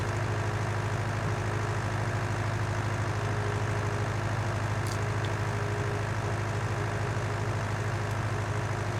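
A slow tractor engine from the Farming Simulator video game drones steadily at low pitch, a continuous heavy rumble with no break across the whole stretch.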